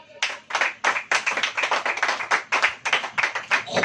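Church congregation clapping together during a Hindi sermon, with sharp hand claps in a quick, roughly regular rhythm and small bursts that rise and fall, near and fairly loud.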